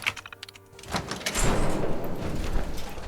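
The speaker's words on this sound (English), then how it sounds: "Open door." A door opening in the video game Fallout 4, a sliding mechanical whoosh that swells after a second of light clicks and keeps rumbling steadily to the end, moderately loud with no talk.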